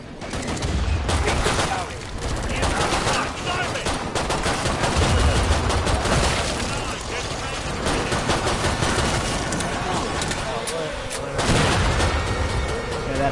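Heavy, continuous gunfire in Killing Floor 2, with rapid automatic bursts and booming shots layered into a loud, chaotic fight, while players talk over it.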